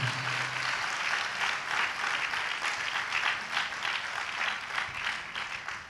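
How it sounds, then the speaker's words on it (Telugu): Applause fills a church congregation, a dense, steady wash of many hands clapping at fairly close range for the whole stretch, with faint voices murmuring underneath. "చప్పట్లు కొట్టి దేవుడు మహిమ పరుద్దాం"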